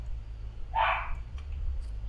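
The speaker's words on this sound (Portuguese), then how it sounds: "Tô ouvindo latido de cachorro" A single short bark from a dog or wolf in the survival video game DayZ, heard at moderate distance over a steady low hum, then quiet.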